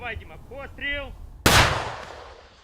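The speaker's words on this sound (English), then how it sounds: "they have to shoot their way forwards, round by round." A single heavy gunshot or artillery blast during the Ukrainian counteroffensive near Orikhiv, loud and close with a long rumbling decay, preceded by a brief voice.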